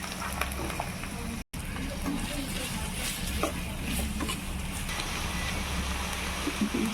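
Green chillies and chopped onions frying in hot oil in a pan, a steady soft sizzle and crackle running throughout with occasional stirring clatter, close and moderately loud.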